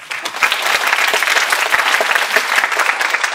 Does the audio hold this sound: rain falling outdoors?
no